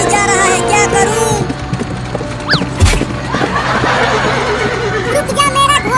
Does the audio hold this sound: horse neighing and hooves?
yes